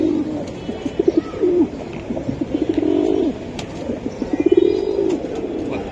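Silver Giribaz pigeons coo close by, repeated rolling, throaty calls rising and falling in bursts with short pulsing stutters between them, loud and clear with no voices.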